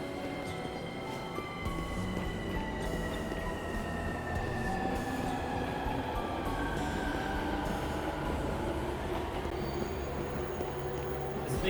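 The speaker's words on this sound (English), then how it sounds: "The train's leaving." A train in the video game 13 Sentinels: Aegis Rim rumbles steadily along the rails, with squealing wheel tones and a continuous rolling drone, loud and near, with no talking.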